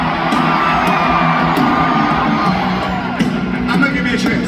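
Concert crowd at a Foo Fighters show in Dallas, a dense, loud roar of screaming and whooping that continues throughout with no break.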